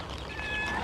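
A stray cat gives a single drawn-out meow, close and fairly loud, with no talk over it.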